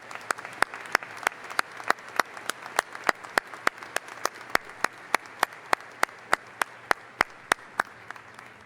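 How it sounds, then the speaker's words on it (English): Clapping at a university spring commencement ceremony, heard as sharp, evenly spaced claps in a steady rhythm of about three per second, fairly close and distinct, over a quiet hall. "let's give him one more round of applause"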